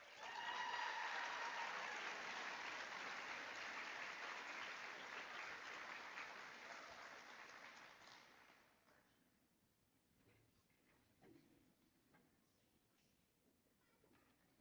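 Loud sustained applause from an audience at an eighth grade recognition ceremony, many hands clapping steadily for several seconds before tapering off into quiet room murmur.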